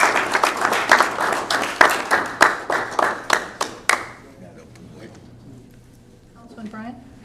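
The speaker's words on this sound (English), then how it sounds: "applause for taking care of people." Applause at a city council meeting: a few seconds of brisk, close clapping from a small group that stops abruptly, followed by quiet room tone and a brief voice.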